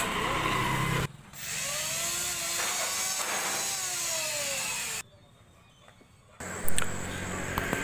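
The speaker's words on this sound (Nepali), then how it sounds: "रन्दा मेसिन चलेको छ।" An electric wood planer, just repaired with a new handle, runs steadily with a loud, continuous whine, cutting out briefly near the end before starting up again.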